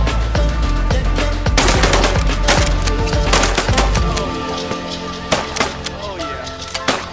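Shotguns firing at snow geese during an outdoor hunt, several loud overlapping blasts in a rapid volley, then a few scattered later shots with voices in the background.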